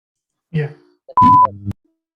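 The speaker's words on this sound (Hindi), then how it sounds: "आपको बीप सुनाई दी?" A single steady electronic beep, clear and close, lasting about a third of a second and set between brief voice sounds.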